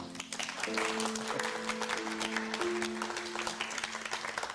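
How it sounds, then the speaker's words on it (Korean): A church congregation applauds during a Sunday worship service, a dense patter of clapping over sustained instrumental tones underneath. "보통 이럴 때는 박수를 치셔야 됩니다."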